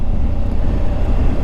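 Wind buffets a helmet on a Suzuki motorcycle on the move, a loud, constant low roar that fills the whole moment with no voices.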